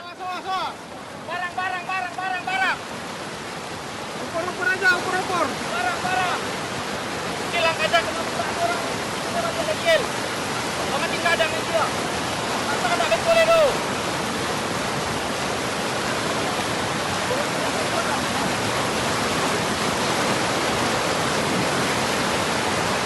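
Rushing floodwater in Padang roars as a steady, loud broadband wash throughout, with a voice speaking over it early on.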